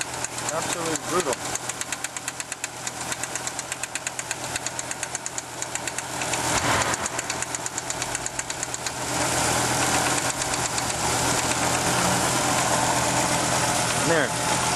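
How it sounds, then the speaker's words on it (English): Idling engine of a 1987 Audi 4000S with a lifter tick, a steady near rumble with rapid rhythmic ticking running throughout, loudest toward the end; a voice talks briefly over it. "Other than this lifter tick, the car is actually running really well."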